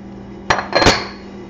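Chopped carrots, celery, onions and potatoes tumble into a crock pot in two quick clattering bursts, a single knock followed by a longer rattling spill, close and fairly loud, with no talking.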